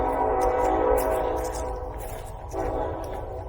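A train rumbles past nearby, with a loud continuous roar and rhythmic clatter throughout.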